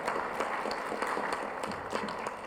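Audience applause at a community forum on domestic violence, a steady wash of many hands clapping at moderate volume throughout, with no voices over it.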